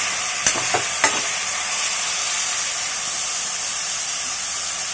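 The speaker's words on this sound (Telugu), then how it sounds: "ఇప్పుడు టమాటా వేస్తున్నాం. టమాటా 3 కోసామండి ఈ కాలు సూపుకి. మెత్తగా ఫ్రై కావాలి." Tomatoes frying in a pan for a South Indian mutton paya curry give a loud, steady sizzling hiss throughout, with two quick clatters near the start and no voices.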